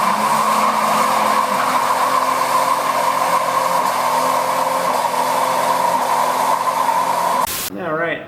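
A Jeep Cherokee XJ fitted with a GM 5.3 V8 and 4L60 transmission holds a loud, steady high rev for several seconds, then cuts off abruptly and winds down.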